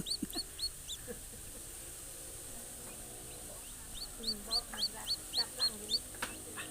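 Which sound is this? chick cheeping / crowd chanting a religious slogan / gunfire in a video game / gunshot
chick cheeping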